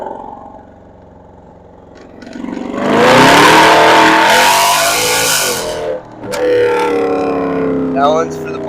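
Naturally aspirated Mercedes C63 engine pulling hard, a loud rising roar building from idle to a sustained high-revving howl, dipping briefly at a shift before climbing again.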